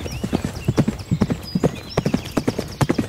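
Horse hooves at an extended canter in a stable arena, a steady rolling clip-clop of repeated beats, close and clear, with no talking over them.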